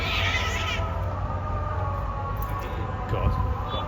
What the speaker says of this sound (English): got a triple cat brawl